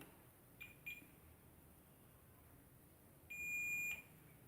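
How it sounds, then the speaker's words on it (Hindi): A multimeter in continuity mode beeps while probing a MOSFET on a desktop motherboard's VRM section: a faint short chirp, then a louder steady tone of about half a second against quiet background hiss. "सोर्स भी बीप देना चाहिए, सोर्स भी बीप दिया है।"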